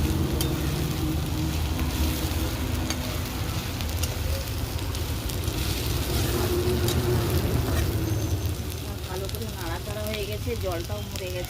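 Fish curry masala stirred in a hot pan, a continuous loud sizzle and frying hiss with scraping of the spoon, steady throughout with a few brief clinks.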